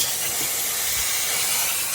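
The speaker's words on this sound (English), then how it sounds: "the best part about working with steam, man, is steam's good for everything" A steam cleaner hisses loud and steady as it works over the interior of a 1966 Chevy Impala barn find during restoration, a continuous close spray with no talking.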